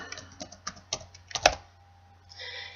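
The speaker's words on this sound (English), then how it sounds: "I'm just going to type in Professional Development." Typing on a computer keyboard, a quick run of soft key taps followed by a louder clack or two, close by, with no voices.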